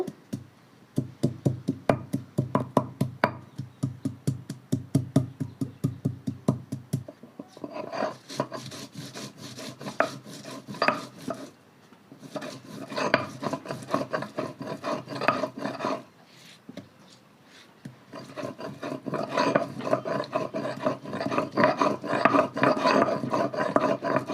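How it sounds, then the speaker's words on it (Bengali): Raw ginger being ground on a village grinding stone, a rhythmic rasping scrape of stone on stone repeated in steady back-and-forth strokes, close and loud with brief pauses between runs. "বন্ধুরা এবার আদা বেটে নেব।"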